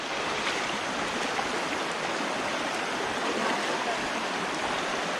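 Strong current of a waterfall stream at Eva Falls in DRT, Bulacan rushes in a steady, dense broadband roar, close and loud throughout with no pauses.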